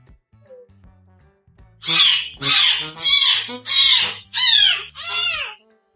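A cat gives six loud, drawn-out, talk-like meows in a row, each a strained, wavering yowl with short pauses between, close to the listener over a quiet room with faint low hum.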